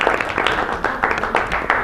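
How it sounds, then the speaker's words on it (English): An audience at a physics lecture on Newton's laws claps briefly in scattered, uneven bursts, moderately close and without voices. "Little round of applause"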